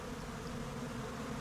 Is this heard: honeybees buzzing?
yes